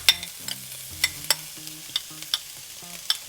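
Pork and onion sautéing in a pan over medium heat, with soft scraping stir strokes, light crackling and a few sharp clinks of utensil on the pan, spaced unevenly through the clip.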